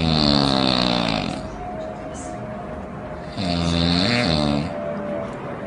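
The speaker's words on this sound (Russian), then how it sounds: "завораживающий храп той самой спящей любимой девушки" A young woman snores while asleep, two long, loud, rasping snores, each a drawn-out inhalation, separated by a quieter breathing pause.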